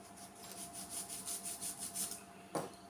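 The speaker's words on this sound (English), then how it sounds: "we'll just run that across the sanding block." Model-making card rubbed across a sanding block, a soft rhythmic rasping in quick back-and-forth strokes, faint and close, ending with a light tap.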